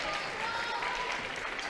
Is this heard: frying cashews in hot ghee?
no